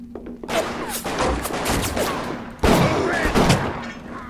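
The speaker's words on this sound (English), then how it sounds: "Two shots to the face should be more than enough to kill someone." Gunfire in BioShock: two loud broadband blasts, one early and a heavier one near the end, with rattling game noise and reverberant tails between them.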